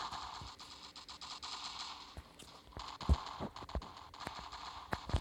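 Gunfire in the mobile shooter Standoff crackles in quick bursts of sharp reports over a steady game hum, moderately loud, with scattered single shots and some rapid strings of fire.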